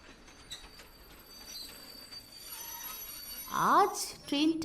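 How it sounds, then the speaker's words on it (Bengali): A train pulls into a platform as a dramatic story effect, iron wheels rumbling, then a sharp rising metallic squeal of wheels grinding near the end, heard fairly close over a low steady background. "দানবীয় গর্জনে প্ল্যাটফর্ম কাঁপিয়ে লোহার চাকাগুলোর ঘর্ষণে আগুনের ফুলকি ছিটকে বেরোচ্ছে"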